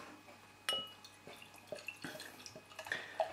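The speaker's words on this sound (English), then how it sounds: "Get rid of that bit of water from the glass." Water splashes briefly out of a glass, followed by a scatter of soft drips and light glassy taps nearby.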